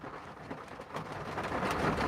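Rain falls steadily outside as a soft, continuous hiss, faint and unbroken for the whole stretch with no voices over it.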